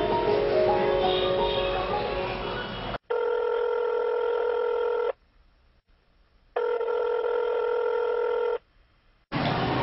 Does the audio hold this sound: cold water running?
no